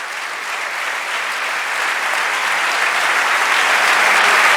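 Loud, sustained applause from a church congregation during an Urdu-Hindi sermon, a dense wash of clapping that swells slightly and holds steady for several seconds with no voices over it.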